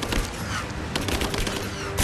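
Rapid gunfire from Rise of the Tomb Raider fills the whole burst, a dense run of loud, close shots with overlapping reports and no pauses.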